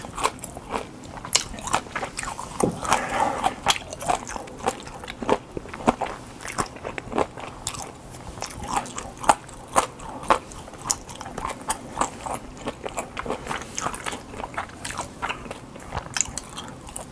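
Close, crisp bites and steady chewing of pressed boiled pork (pyeonyuk) with makgeolli, a continuous run of crunchy, squishy mouth sounds with no talking.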